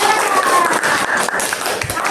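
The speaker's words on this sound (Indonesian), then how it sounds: "Tepuk tangan untuk kelompok 3" A classroom of students claps for a group, quick uneven claps mixed with chatter and a high whistle-like tone, close and lively.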